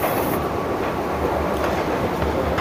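A Doha Metro train at a metro station, a loud steady rumble of wheels and carriages rolling past with faint clatter, continuous throughout without talk.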